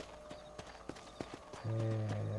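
Horse hooves clip-clopping at a steady walking pace in the Red Dead Redemption video game, a series of soft close thuds, followed by a louder sustained sound at the end.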